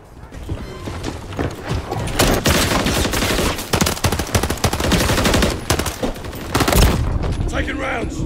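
Dense, loud automatic gunfire in a Call of Duty Modern Warfare 3 multiplayer match, with rapid bursts filling the whole stretch and a few heavier blasts near the end, over faint voices and game chatter.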